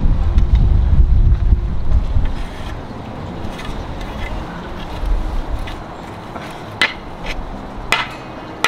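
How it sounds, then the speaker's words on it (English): Strong wind buffets the microphone in a heavy low rumble in a backyard garden, loudest at the start and easing later, with a few sharp knocks and clicks near the end. "it's super windy here"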